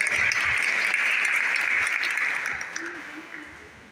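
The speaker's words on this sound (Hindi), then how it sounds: "सर के लिए एक बार फिर से ताली हो" Students and guests clap for their teacher at a law academy event, a full, steady round of applause that gradually fades out near the end.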